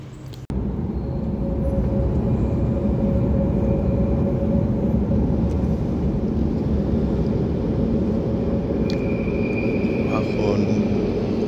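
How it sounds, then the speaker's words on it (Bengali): A Barcelona metro train pulls into the station with a steady, loud rumble and hum that holds for several seconds after a sharp opening clunk, punctuated by a faint high squeal and brief clicks. "তো মেট্রো ঢুকছে এখন।"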